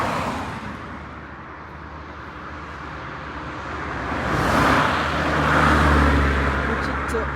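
Honda Civic driving past on a road, a broad loud rush of engine and tyre noise that swells as it passes, with talking over it.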